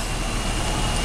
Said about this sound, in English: Good idle.